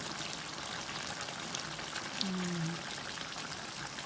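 Coconut milk pours into simmering beef rendang with a steady, soft hissing wash of liquid against a continuous background of bubbling, and a brief faint tone rises partway through.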